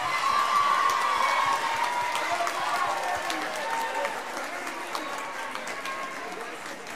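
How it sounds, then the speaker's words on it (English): Applause for a seventh grade choir at a middle school spring choral concert, a steady wash of clapping from an audience that carries on through the whole stretch. "Let's give one more round of applause for our seventh graders."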